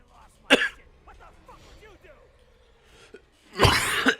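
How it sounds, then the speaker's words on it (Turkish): Coughing during commentary on a Call of Duty: Black Ops 2 playthrough: two loud, harsh coughs, one short near the start and a longer burst at the end, with quiet speech between them. "ne öksürük ya"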